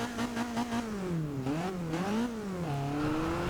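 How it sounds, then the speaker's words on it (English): Engine of a Mazda MX-5 ND in the racing game Forza Horizon 2, rising and falling through repeated revs and gear changes, loud and close with no talking. "Still the same noise, so they haven't upgraded the engine too much"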